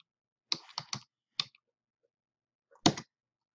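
A computer keyboard being typed on while entering a command in AutoCAD 2018: a quick run of four close clicks, a single tap, then after a pause one louder final keystroke, crisp and near in a quiet room.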